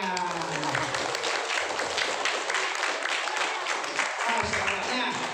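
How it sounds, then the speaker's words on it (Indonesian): Hands clapping at a Maulid celebration of the Prophet Muhammad's birth, a dense steady patter under children's and adults' voices and chatter throughout. "Alhamdulillah, tepuk tangan."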